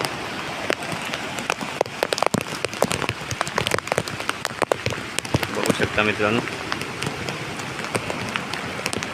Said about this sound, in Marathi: पाऊस हा आता कंटिन्युअसली पडत आहे आणि तो पण जोर वाढत आहे त्याचा पावसाचा